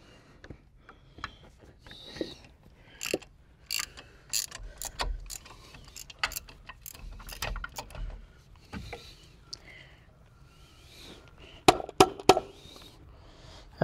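A ratchet socket wrench clicks in repeated bursts of fast ratcheting while working on the knocking front suspension of an older car, with scattered metal knocks and tool handling in between and no talk.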